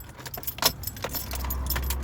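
Car keys jangle briefly as they are pulled from the ignition of a Mk1 car, a light metallic rattle followed by a steady low engine or cabin hum.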